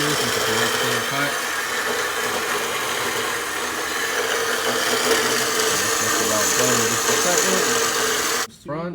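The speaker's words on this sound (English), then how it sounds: "Cutting the other side of the bandsaw too, since it's a much cleaner cut." A bandsaw cuts through a car driveshaft for an AWD Honda CRX build, giving a loud, steady motor whine with grinding that runs nearly the whole time and stops abruptly just before the end, while a voice talks over it.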